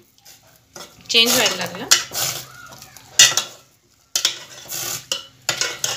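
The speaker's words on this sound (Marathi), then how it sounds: "तुम्ही बघू शकता सतत असं छानपैकी ढवळत राहायचं" Village-style mutton rakti being stirred continuously in a pot over a high flame, with metal spoon scrapes and clinks against the pot in bursts, loud and close, while a voice speaks now and then between them.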